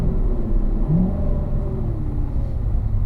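A car engine at Spring Mountain track rumbles close and loud while heel-toe downshifting, with the pitch of the engine rising and falling in quick rev changes over a few seconds.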